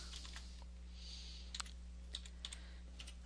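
Keys tap on a computer keyboard as an expression is entered into a graphing calculator app, a few soft, scattered clicks spaced irregularly over a quiet electrical hum.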